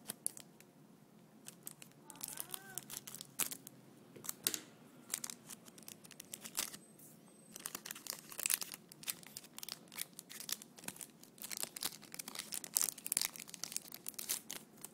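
Scissors snip and crinkle a foil Yu-Gi-Oh card pack open at the top, giving a run of sharp cuts, rustles and wrapper crackles, close and fairly quiet.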